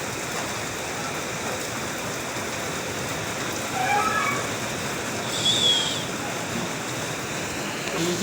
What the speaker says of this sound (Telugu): వర్షం బీభత్సంగా పడుతుంది గోవాలో ఎంత వర్షమో